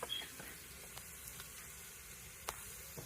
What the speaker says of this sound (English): I am sauteing down my onion,